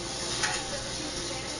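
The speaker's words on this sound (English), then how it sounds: "The sizzling, the chopping, the spatula." A hot sub sizzles quietly on a Jersey Mike's grill, a low steady frying hiss with a small tick or spatula tap near the start, close and faint.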